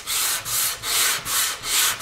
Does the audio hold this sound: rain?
no